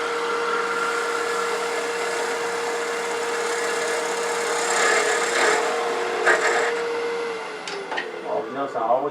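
A bowl gouge cuts wood on a lathe while a bowl with a bark rim is turned. The cut is a steady, close scraping hiss with a low hum underneath, and it breaks into short rough scrapes near the end.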